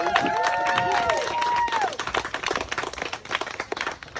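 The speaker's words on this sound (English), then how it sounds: "So give yourselves a big round of applause." Crowd applause and cheering at a Pride visibility walk in Aberdeen, loud and dense at first with voices and whoops over it, then breaking into scattered, uneven claps as it fades.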